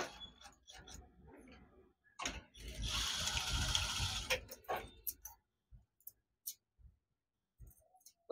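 A sewing machine stitching a back-open blouse rattles through a short mechanical run of under two seconds, framed by scattered quiet clicks and handling noises.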